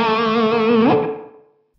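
An electric guitar through a JHS Bonsai Tube Screamer-style overdrive pedal used as a solo boost sustains a boosted, overdriven chord with a slight bend near the end, then rings out and fades to silence.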